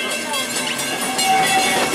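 Steam train running at Magic Kingdom, a close rumbling rail roar with a brief high whistle-like tone, steady and loud under a moment of speech.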